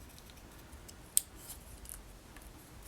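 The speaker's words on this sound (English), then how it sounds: "There is some scissors work involved." A single quick snip of scissors trimming card-stock paper for a paper craft card kit, one faint sharp cut in an otherwise quiet room.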